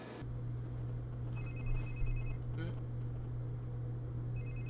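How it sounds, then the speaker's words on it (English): A telephone rings in the video game République, two bursts of trilling electronic ringing over a constant low hum, fairly faint at moderate distance. "Oh boy, phone ringing"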